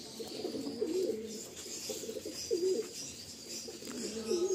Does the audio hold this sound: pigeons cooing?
yes